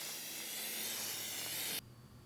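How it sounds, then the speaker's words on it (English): Nonstick cooking spray hisses steadily from an aerosol can onto a snow shovel, one continuous close burst lasting under two seconds before cutting off abruptly into quiet. "you want to spray your shovel with some nonstick cooking spray to make sure the snow slides"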